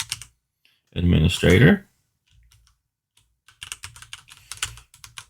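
Keyboard typing in a server administration setup while an administrator password is entered, a short burst of clustered key clicks near the end after a spoken word and a pause.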